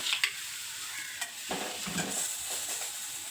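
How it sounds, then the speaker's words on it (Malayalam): Beef filling with coriander leaves and salt being stirred in a pan for a banana snack, a steady soft sizzle with a few brief scraping strokes, close and moderately quiet. "നല്ലപോലെ ഒന്ന് മിക്സ് ചെയ്യണം"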